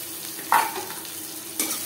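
Crushed garlic dropped into a little hot oil, giving a short sharp sizzle followed by a faint steady frying hiss and a second brief burst, close and quiet.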